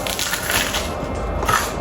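Crunchy bite into the crisp crust of a bagel toasted in a Ninja Foodi air fry oven, a steady close crackling crunch over about two seconds.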